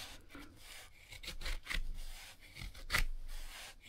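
A knife carving a small piece of wood into curled shavings, giving a run of close, rough scraping strokes of uneven length, with a sharper cut near the end.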